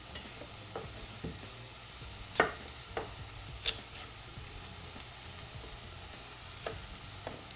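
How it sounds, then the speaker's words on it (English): Food sautés in a pan with a quiet, steady sizzle, broken by a few scattered clicks and knocks of a utensil. "Let that saute a little bit."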